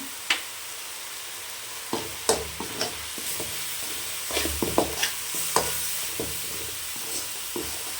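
Home-ground mutton curry masala with turmeric frying in hot oil: a steady hiss of sizzling with scattered sharp scrapes and taps of a spoon stirring the pan, close and alone.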